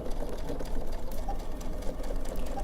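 A sewing machine runs a steady, fast stitching whir while backstitching along the edge of a fabric face mask, with a continuous even hum close up and no pauses or talk.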